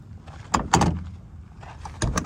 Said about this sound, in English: open the side door